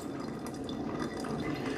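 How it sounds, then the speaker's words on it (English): A Mr. Coffee Perfect Brew Intelligent Coffee Maker's water pump brews with a soft, continuous gurgling and bubbling trickle, steady and fairly quiet with no voices. "it definitely sounds like a water pump that's brewing the coffee or brewing the water through the"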